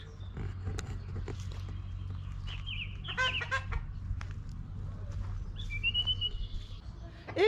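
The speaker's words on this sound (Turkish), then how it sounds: "O kadar yoğun kuş sesi var." Several birds call over a steady low hum, with chirps and short whistled phrases overlapping throughout, some close and clear, others fainter in the background.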